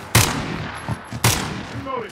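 Two sharp gunshots ring out about a second apart in a Call of Duty team deathmatch, with faint game sounds between them.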